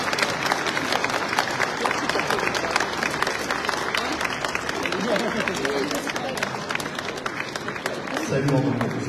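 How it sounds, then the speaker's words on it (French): At the Salon Origine Auvergne, an indoor audience applauds to welcome cyclist Romain Bardet, with sustained clapping mixed with crowd murmur and some speech underneath. "je vous demande d'applaudir et d'accueillir notre champion"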